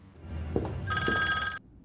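A telephone bell rings in one loud, continuous metallic burst of under a second in an indoor room, preceded by a couple of soft thumps, then cuts off to quiet.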